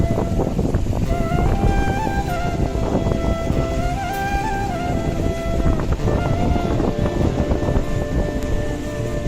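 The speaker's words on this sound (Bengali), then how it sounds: "জায়গাটা কি মানে এত এত বাতাস" Strong wind blows beside the Shitalakshya river, a loud, constant rushing roar that buffets the microphone, with faint tonal sounds layered over it and no speech.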